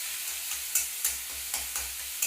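Onion slices frying in hot oil in a pan, with a steady close sizzle and regular scraping stir strokes roughly every half second.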